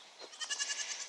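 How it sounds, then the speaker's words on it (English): Goat bleating nearby, a single wavering call broken into quick rhythmic pulses, fairly loud with nothing else over it. "goats be goats"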